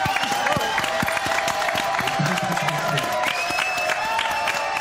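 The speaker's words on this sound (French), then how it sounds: "Allez, applaudissements pour le Camarguais" Audience at a French holiday-themed TV show applauding a guest from the Camargue, a lively round of clapping with some cheering, steady and fairly close throughout, with music or tones faintly underneath.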